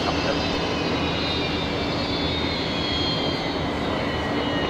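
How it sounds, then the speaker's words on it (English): A Qantas airliner, flight 126, arriving at Brisbane Airport at sunset, a steady broad engine roar holding loud and even throughout, with no pauses or breaks. "Qantas 126 coming in there."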